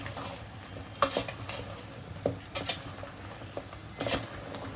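Chili powder is stirred into sambar in a pot, with soft scraping and clinking strokes of the spoon coming at irregular intervals over a low background sizzle, close and fairly quiet.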